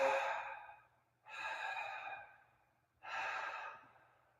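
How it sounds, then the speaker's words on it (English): Three slow, deep breaths during a twisting yoga-style session, each a long breathy exhale lasting about a second with brief gaps between, close and clear with no talking. "Bamboo breathing is where we take an inhale and we exhale in one exhale 3 breaths"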